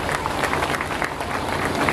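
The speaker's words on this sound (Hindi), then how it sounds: "एक बार जोरदार तालियां" A crowd at a Gondi community speech event in Bijapur bursts into loud, dense applause, a steady wash of clapping with no gaps.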